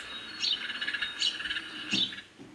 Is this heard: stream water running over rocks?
no